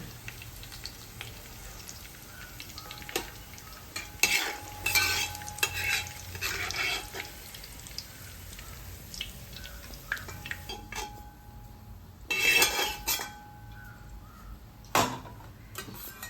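Bilimbi pickle being scooped from a hot pan into a vessel, with intermittent scraping and clattering bursts of a utensil against metal over a faint background sizzle, the loudest scrapes clustered near the middle and toward the end.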